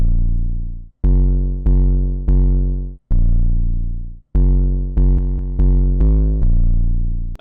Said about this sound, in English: we have the first 808 pattern, which is going to sound like this.